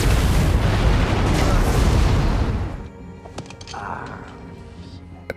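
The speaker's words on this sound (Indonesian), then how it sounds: "salah satu anak buah Orlin melempar granat" A grenade blast in an action film lands as a loud, sustained roaring boom that fades after a few seconds into quieter debris and rumble.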